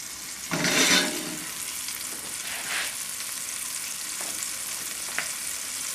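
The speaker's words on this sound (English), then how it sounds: "So the onions will be sauteed" Onions and tilapia fry in a pan on a raised flame for a lyonnaise dish, a constant close sizzle with a louder burst of hiss early on and a few stirring scrapes.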